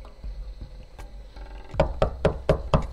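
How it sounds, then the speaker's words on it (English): Impatient knocking on a door: five heavy, evenly spaced knocks, loud and close, following a stretch of low rumbling background with no talk. "Bang on the door becomes more and more impatient."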